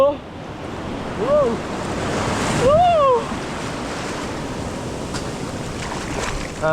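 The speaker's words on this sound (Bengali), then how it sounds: "দারুণ একটা সমুদ্রের ঢেউ, গর্জনের আওয়াজ শোনা যাচ্ছে" Ocean surf rolls steadily onto a sandy beach at sunset, a continuous broad wash of waves with gusty wind across the microphone, while birds give brief whistling calls in the middle and people chatter faintly in the background.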